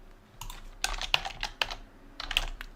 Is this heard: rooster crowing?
no